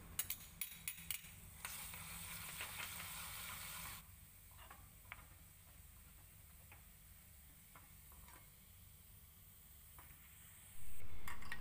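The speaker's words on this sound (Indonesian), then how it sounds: "kita panaskan sedikit minyak dan kita goreng bawang putih cincangnya hingga kuning kecoklatan" Chopped garlic fries in a little hot oil, a soft steady sizzle with scattered ticks and stirring taps, ending in a sudden louder burst of sizzling.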